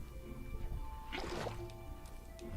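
In Minecraft, a bucket scoops up water with a short, quiet wet squish and slosh, heard once over faint steady game background noise.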